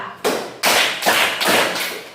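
Students in a classroom clapping in unison during a rhythm clapping game, about five crisp, loud group claps in an even beat with a slight ringing decay between them.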